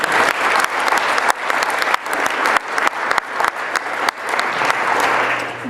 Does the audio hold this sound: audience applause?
yes